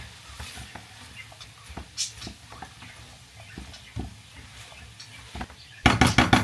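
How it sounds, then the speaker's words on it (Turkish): A spoon stirs and scrapes food in a cooking pot with cumin just added, giving soft irregular clinks and taps, followed near the end by a quick run of louder metallic scrapes. "Şunu şöyle bir karıştıracağım."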